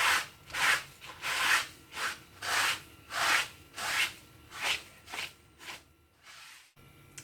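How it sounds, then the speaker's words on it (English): A cloth scrubs dried salt off a watercolor painting in about ten steady back-and-forth rubbing strokes, close and fairly loud, with no talking. "now I'm going to take a cloth and just scrub off the salt"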